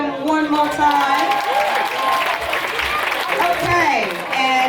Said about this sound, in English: Can we all clap for them one more time?